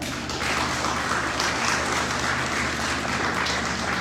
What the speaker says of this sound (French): je vous prie de bien vouloir applaudir très fort